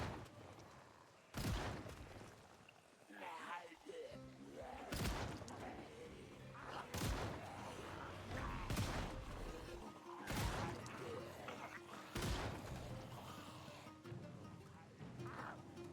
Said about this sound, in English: We're getting muscle strain from shooting the shotgun.